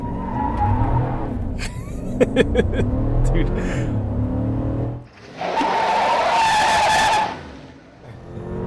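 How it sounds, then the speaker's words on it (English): A 2021 Chevy Silverado 1500 RST V8 pickup doing a burnout, its engine roaring under loud, sustained tire squeal that swells strongly in the latter half, with a person speaking briefly over it. "Burnout mode."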